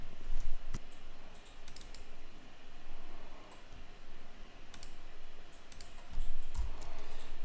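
Soft computer mouse clicks while saving a file, a few scattered light taps near a quiet room's steady background hum, with no talking.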